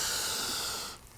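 One close, airy breath drawn in deeply through the nose during a downward dog yoga pose, a steady hissing rush that fades out at the end.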